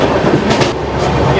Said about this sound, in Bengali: এটা একটা স্টেশন ক্রস করছে